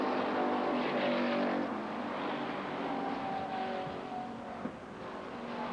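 Street stock race cars at Lake Geneva Raceway in Wisconsin, a steady roaring engine drone from several cars circling the track, moderately distant and continuous with slight swells as they pass.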